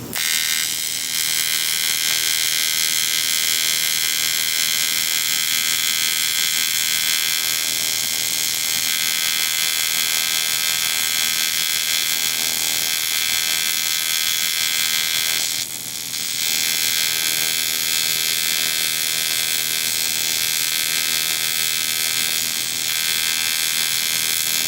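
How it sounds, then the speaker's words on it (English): TIG welding runs across a tacked metal joint as a steady, loud electric buzz that holds for about twenty-five seconds, with one brief dip partway through. "now that I got it tacked, I'll go ahead and weld across it"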